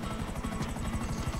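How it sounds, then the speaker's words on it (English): Helicopter flying in the video game GTA V Online, a loud, continuous rotor chop with a fast, steady thumping rhythm close by and no talk over it. "Literally, I'm high in the air right now in a helicopter"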